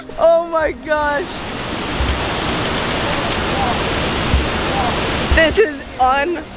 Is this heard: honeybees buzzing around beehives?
no